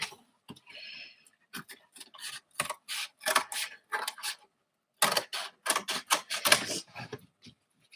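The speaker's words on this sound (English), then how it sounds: "So I'm cutting out my card now." Scissors cut out a paper card during a home craft session, giving a long series of crisp, close snips in irregular bursts separated by a short pause, with no voices over them.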